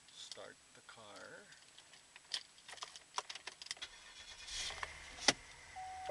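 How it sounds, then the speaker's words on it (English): A 2009 Cadillac engine starts after a short voice and the sound of keys jangling, clicking and ticking inside the car. The engine cranks and catches near the end, close but fairly quiet. "Start the car."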